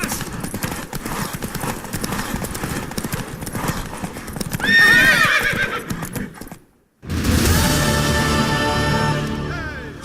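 A horse gallops in The Witcher 3, its rapid hoofbeats pounding steadily and close, broken by loud whinnies, a brief silence, then more neighing and hooves.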